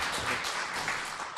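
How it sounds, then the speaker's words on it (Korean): Applause from a conference audience for four session speakers at the close of the 2023 local autonomy legislation international forum: steady, dense clapping that fills the room at an even level throughout. "수고해 주신 4분께 다시 한번 박수 부탁드리겠습니다"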